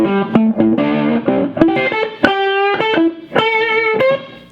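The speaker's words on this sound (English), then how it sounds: "the tone of this guitar is just huge" Distorted Les Paul electric guitar played loud through an amp, thick sustained chords and notes ringing with heavy overdrive and a few sharp picked attacks.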